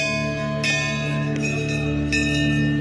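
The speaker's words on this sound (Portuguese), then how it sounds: "Eles tocam o sino como quem avisa a chegada." Metallic temple bell strikes ring out several times at a Ganges temple in India, each leaving a long, humming resonance that sustains between hits.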